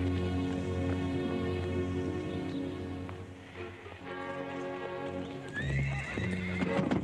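A horse whinnies and snorts amid steady clip-clopping hooves, with a loud neigh rising near the end over a busy background.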